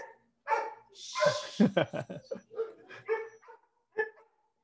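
Several dogs bark, yip and whine in quick succession at close range, one sharp hiss-like huff in the middle, with short pauses between.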